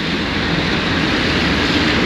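A steady, loud rumbling roar of a passenger train rolling past close by in Lazarevskoye, Sochi, just after rain, continuous throughout with no voices.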